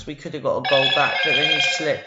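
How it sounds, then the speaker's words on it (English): A telephone rings with a steady, high electronic trill that starts partway through and continues under someone talking continuously over it. "Sorry, that's the phone going."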